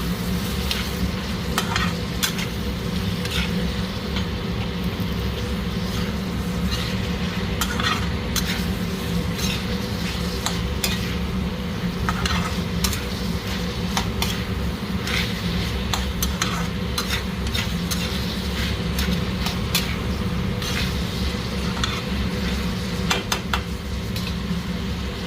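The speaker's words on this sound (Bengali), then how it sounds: "অনেক ভালো ভাজা হয়ে গেছে মশলার সাথে বরবটি দিয়েছি দানা" Barbati seeds frying with spices in a pan while being stirred, a continuous loud sizzle with repeated scraping and clinking of a utensil against the pan, steady and close with no voices.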